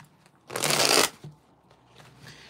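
Tarot cards are shuffled up close in one loud, crisp riffle lasting about half a second, followed by softer card handling and faint rustles in a quiet room.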